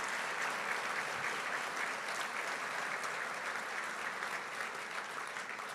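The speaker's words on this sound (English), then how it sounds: "Let's give them a little round of applause." Audience applause for non-public school teachers at an anniversary gala, a steady dense wash of many hands clapping that holds evenly for several seconds at moderate distance.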